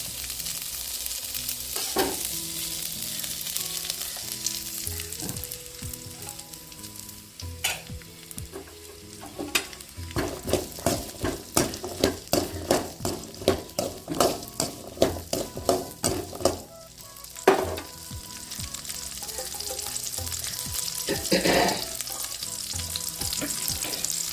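Chopped onions fry in a little oil, a continuous close sizzle broken by bursts of quick rhythmic stirring and clinking of a metal spoon against the pan, without speech.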